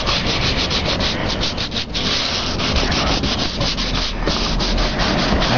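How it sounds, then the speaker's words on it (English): Continuous coarse scratching and sanding on the dented steel body panel of a 1996 Jeep Grand Cherokee, loud and close with steady back-and-forth rasping strokes and no pauses. "you're gonna want to get in there, scratch it real good so the Bondo and the filler will stick to it"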